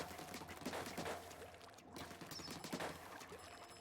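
Dark Tetra Dualies firing in Splatoon 3: a busy stream of rapid, splattery shots with wet, pouring bursts that repeat throughout, dropping out for a split second in the middle before resuming at full loudness.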